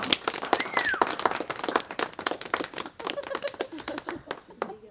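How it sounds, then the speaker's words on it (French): Scattered clapping from a small audience at an amateur French theatre show, uneven sharp claps with gaps between them, fairly close and modest in volume, with a few faint voices in the background. "Ah, tu peux applaudir quand même."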